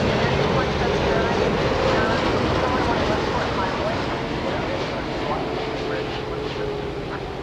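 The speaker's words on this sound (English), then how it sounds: "We do have a 747 on final approach now." A Boeing 747 cargo jet on final approach at night at DFW Airport, heard as a steady, broad roar that slowly fades over several seconds.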